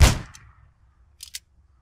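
A single sharp sniper rifle shot from the Arma 3 video game cracks loudly at the start and decays quickly, followed by two faint brief clicks in near silence.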